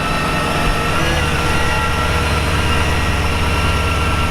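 Computer-controlled LS1 V8 idles in a 1957 Ford Fairlane 500 hardtop resto-mod, a loud, close, steady low rumble with an even pulsing lope and no voices over it.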